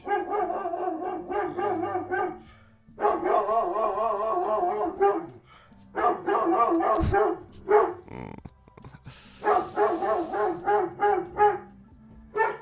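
A dog barks repeatedly at a package delivery, loud and close, in rapid bursts of yips and bow-wows separated by short pauses, with one brief howl-like stretch and no talking.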